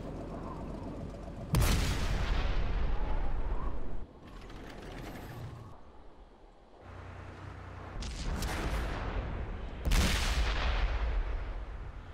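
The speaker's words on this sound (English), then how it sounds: "This is why artillery should not be in the fucking game." Loud booming blasts of artillery fire in a World War II armored-division video game, several heavy impacts with long rumbling tails and mechanical clanks between them, no talk.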